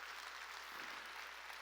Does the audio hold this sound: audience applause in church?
yes